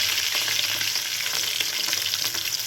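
Pabda fish frying hard in oil in a pan, a dense, bright, crackling sizzle that stays loud and close throughout, with no voices.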